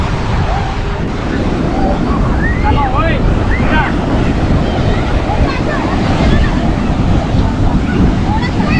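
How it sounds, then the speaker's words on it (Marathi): Big ocean waves surge and roll off the Goa coast under cloudy skies after rain, a steady loud wash of surf mixed with wind buffeting the microphone, heard from a boat at sea. "मागच्या साईडला तर एवढ्या मोठ्या लाटा येत आहेत ना"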